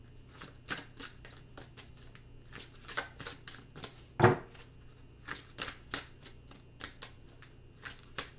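Tarot cards being shuffled by hand, a steady run of soft papery riffles and flicks across the whole stretch with one sharper tap midway, close and fairly quiet with no talking.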